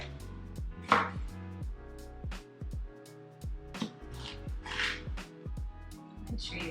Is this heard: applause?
no